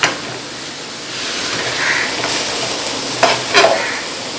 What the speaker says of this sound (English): and then stir it well